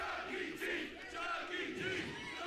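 Wrestling crowd at a Cameron Grimes vs Chuck Taylor match, a dense, steady roar of voices with surging shouts, loud and continuous throughout.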